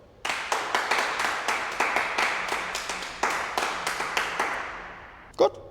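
Two people clapping their hands together in Munich, a steady series of sharp, close claps at an even rhythm lasting several seconds, then a pause and one louder clap near the end.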